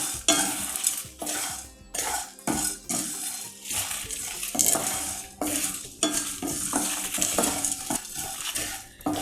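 A stirring spoon scrapes and clatters in a pan as about ten black peppercorns, fenugreek seeds and five or six dried red chillies roast in a small drop of sesame oil, with a soft sizzle under continuous close scraping.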